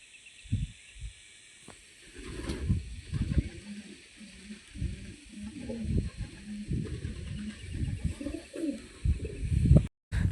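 Repeated low pigeon coos, soft and rumbling, from pigeons at a farm well, with a few scattered rustles and clicks; moderately close, no voices.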